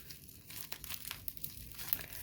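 Crinkling of plastic wrap as a Temu package is pulled open, a soft, close rustle in irregular bursts with no talking.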